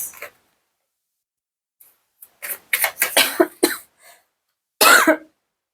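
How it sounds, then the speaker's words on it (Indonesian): A person coughs in a cluster of sharp, close bursts, with a brief pause before a final loud cough; silence separates the fits. "sorry karena emang aku lagi batuk ya teman-teman dari kemarin"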